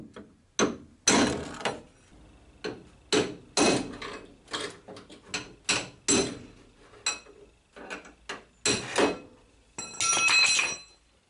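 Sheet metal is folded over by hammer blows, roughly a dozen sharp metallic strikes in irregular bursts, close and loud with a ringing tail and quiet gaps between.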